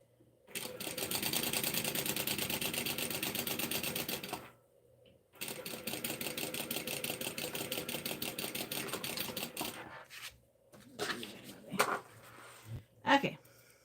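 A sewing machine runs in two long continuous bursts stitching a quarter-inch seam, with a brief pause between them, followed by a few short stops and starts; it is heard alone.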